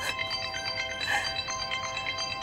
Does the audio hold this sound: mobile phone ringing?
yes